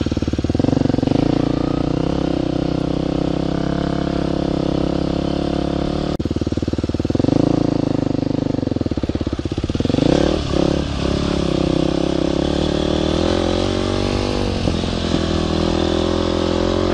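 A dual sport motorcycle rides through suburban streets, its engine droning loudly and steadily throughout, with shifts in revs and a throttle surge near the middle.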